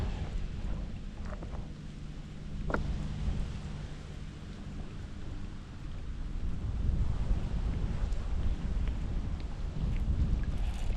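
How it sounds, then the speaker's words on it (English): Strong wind buffets a small fishing boat during winter bass fishing, a steady low roaring rush that swells slightly over the whole stretch, with no voices. "It's so windy."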